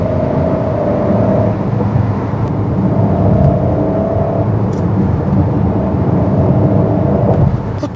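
A steady, loud low engine drone with a faint whir fills the cabin of a Peugeot 408 GT with active sound, holding evenly throughout without breaks.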